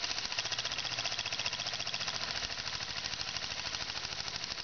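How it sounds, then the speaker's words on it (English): A small homemade wobbler engine running steadily on its own, a fast, even chuffing and rattling beat that holds close and fairly loud from start to finish. "Little engine you can make in your kitchen with a saw and a file and a screwdriver"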